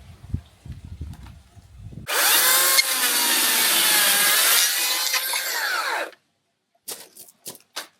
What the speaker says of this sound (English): I'm holding a chainsaw